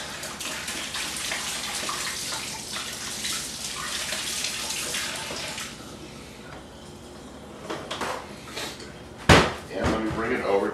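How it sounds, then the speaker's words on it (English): Tap water runs steadily into a sink while hands are rinsed, a continuous close splashing hiss that eases off midway, followed by a few louder knocks and clatters near the end. "Let me rinse my hands really quick."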